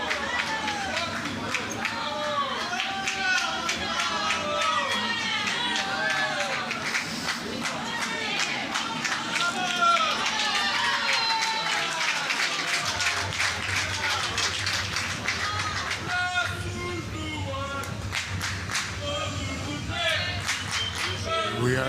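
Portuguese crowd at a Boccia pair final in Rotterdam applauds in a sustained, dense patter of clapping and cheering, with excited voices mixed in and a commentator talking over it.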